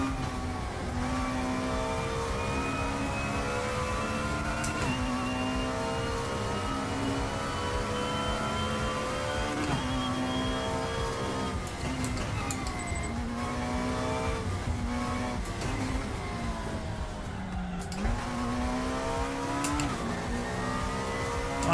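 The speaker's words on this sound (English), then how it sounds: "90s touring car racing." Several 1990s touring cars race in a sim racing game, their engines droning loud and steady with rising and falling pitch as they rev through gears, overlapping one another continuously without talk.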